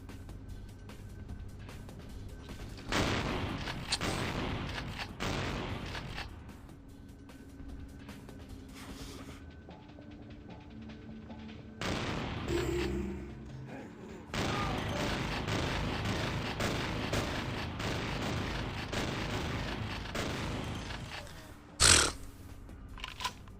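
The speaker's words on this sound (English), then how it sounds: "Shotguns are extremely useful against vampires" Gunfire from the video game Vampire: The Masquerade – Bloodlines, with a shotgun in play: repeated loud bursts of shots broken by short gaps, ending in one sharp, very loud blast near the end.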